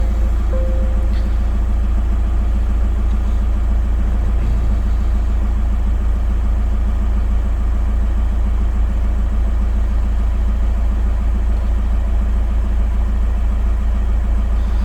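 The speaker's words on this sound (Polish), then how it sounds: "słuchajcie, bo nam silnik chodzi" A Skoda car engine idles in a workshop as a steady, continuous low hum with a faint mechanical drone. It stays even and close throughout, with no voices.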